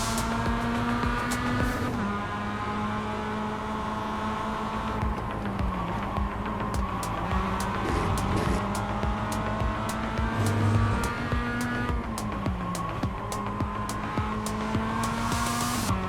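Mazda MX-5 Cup race car engine at VIR North in iRacing, revving loud and close through shifts and braking, with pitch sweeping up and down and faint tire squeal under the sustained drone.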